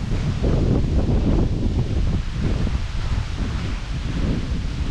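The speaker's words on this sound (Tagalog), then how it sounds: "Pabugso-bugso na kasi mga kasinag malakas na hangin." Strong gusty wind before a storm roars and buffets the microphone continuously, with rustling leaves and coconut palms mixed into the loud, rushing noise.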